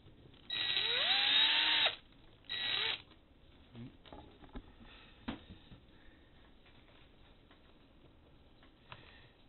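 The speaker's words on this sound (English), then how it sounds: "go ahead and put these screws back in" Screws driven back in during a ribbon replacement, heard as two close, loud bursts of mechanical whirring with a rising pitch, then a few faint ticks and clicks in a quiet room.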